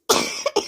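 A short burst of coughing, three harsh coughs in quick succession, close and loud, with nothing else around them.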